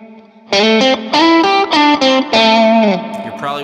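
Electric guitar played clean through a Hot Cake overdrive pedal used as a boost with the drive off, a loud, sustained series of bright notes with small gaps between phrases, alone without voices.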